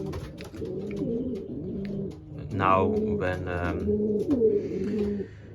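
Racing pigeons at the loft at feeding time coo steadily in low, rolling phrases, close and fairly clear, while a person talks briefly over them.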